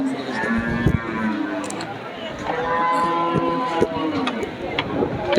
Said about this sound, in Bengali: এই পাশের গরুগুলো দেখুন এখানেও আমরা এগুলো সবই মাংসের গরুগুলো